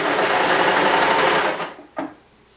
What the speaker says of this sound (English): you can put the presser foot back down and continue to stitch down the next side